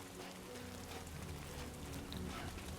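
Steady rain in the game Death Stranding 2, a dense, even hiss of drops on surfaces with no pauses, fairly quiet and continuous throughout.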